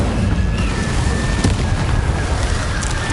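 The Incendio fire spell is cast in the Hogwarts Legacy video game, a dense, roaring burst of flame with crackling noise and a faint tonal hum, continuous for a few seconds.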